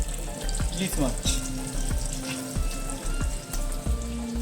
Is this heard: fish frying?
yes